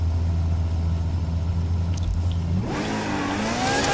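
Ferrari supercars including an Enzo, LaFerrari, 488 and 812 Speciale launch at full throttle in a drag race in The Crew video game, a steady low engine drone that jumps into a loud, rising, high-pitched rev after a couple of seconds.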